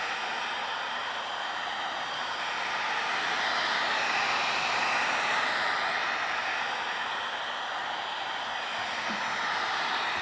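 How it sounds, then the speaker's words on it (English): A heat gun blows steadily over fresh paint, a continuous close hiss-roar of air holding at an even level throughout, with no talk. "I may have to get my heat gun out and dry this off"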